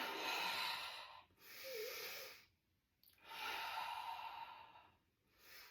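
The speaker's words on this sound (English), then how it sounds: "Inhale up, breathe here." Slow, soft breathing during a yoga pose, long airy inhales and exhales alternating with brief pauses, quiet and close.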